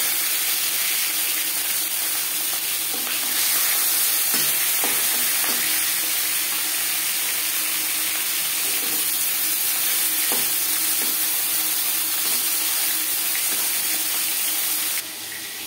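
Fish head and rui fish pieces sizzle in hot oil in a pan, a steady, dense hiss with occasional crackles and stirring clatter throughout.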